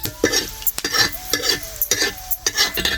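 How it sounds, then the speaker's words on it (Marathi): Coriander seeds are dry roasted in a pan and stirred, giving quick scraping, rustling strokes in an uneven rhythm, close and moderately loud, with no speech. "आता धने पण भाजून घेते."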